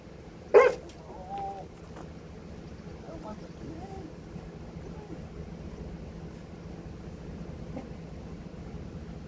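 An injured dog gives one sharp bark at the start, followed by faint whimpers against a low steady outdoor hum, with brief quiet talking.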